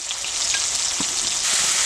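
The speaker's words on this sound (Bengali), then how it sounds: "আমার পেঁয়াজ আর টমেটোটা ভাজা হয়ে গেছে" Steady, close sizzling of onion and tomato frying in a hot pan, a continuous crackling hiss with faint stirring clinks, no voices.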